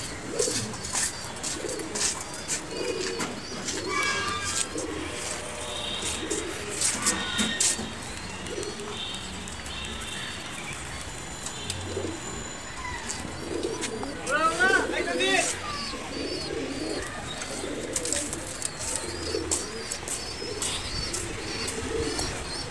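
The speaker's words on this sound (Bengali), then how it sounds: "যে কবুতরগুলো পেয়ার করছি আমি ওগুলো দেখাই।" Pigeons on the rooftop of a new home coo in soft, repeated rolling calls, with occasional chirps and brief wing flaps, while voices can be heard faintly in the background.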